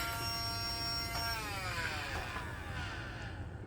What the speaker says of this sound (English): Let me vacuum your hair